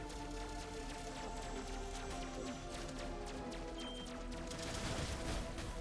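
Missiles fire and explode in the sci-fi shooter Mycopunk, a dense, continuous barrage of blasts and crackling impacts layered over steady game music and effects, loud throughout with no pauses.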